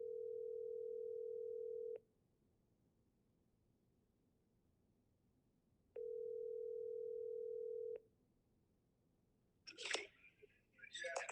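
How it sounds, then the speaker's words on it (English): Ringback tone on an outgoing telephone call: two long steady tones about two seconds each, separated by a four-second gap, followed by a brief burst of noisy voice at the end. "Let me make this phone call."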